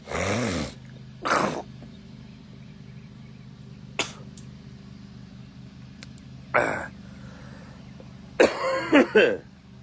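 Scattered coughs and throat-clearing sounds, near and fairly loud, spaced out over a quiet background, ending in a quick cluster.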